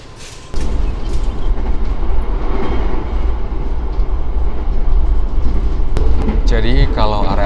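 A Gajayana passenger train from Jakarta to Malang rumbles along the rails with a steady, loud roar, then a sudden clatter and squeal of wheels near the end.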